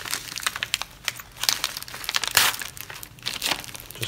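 Paper crinkling and crumpling as packing material is pulled from a package holding poured silver bars, a run of close, loud rustling bursts with no talk.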